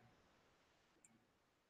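A single soft click of a computer mouse in a quiet room, short and close, with faint background hush before it.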